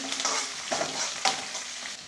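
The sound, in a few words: sautéing curry leaves and peanuts in a pan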